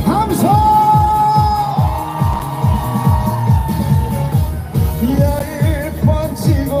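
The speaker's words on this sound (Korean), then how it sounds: "아름다운 청송에 흠뻑 반했다 하시는 분들 함성!" A concert crowd at the Cheongsong apple festival cheers and whoops loudly, a dense roar of voices with shouts rising over amplified music for the whole stretch.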